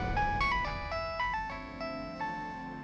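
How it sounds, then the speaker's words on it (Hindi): A mobile phone ringtone plays a bright, repeating electronic melody of short stepped notes, clear and moderately loud, with no talking over it. "अरे उठा ले फोन।"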